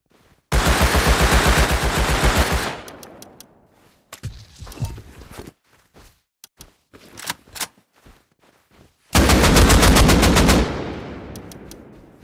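Loud automatic gunfire in Rust on console, two long sustained bursts opening and closing the passage, with scattered single shots and footsteps in the quieter gap between them.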